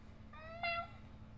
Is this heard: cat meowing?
yes